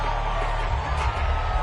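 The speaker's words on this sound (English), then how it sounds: "Plenty of shouts from this crowd as they watch the replay" A football stadium crowd shouts and roars as a replay is shown during a Miami versus Falcons game, a thick, continuous wash of voices with scattered whoops rising from the mass.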